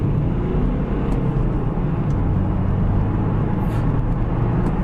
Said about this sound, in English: We'll put the car in sport mode and see what the acceleration is like